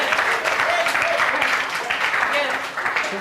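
An audience at a residents' assembly meeting in a pavilion applauds in a continuous broad patter, with voices mixed in beneath the clapping.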